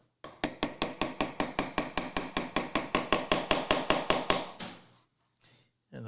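A saw blade is tapped down into the kerf of a pine dovetail joint with about twenty quick, evenly spaced knocks, loud and close, then a brief pause before faint handling sounds.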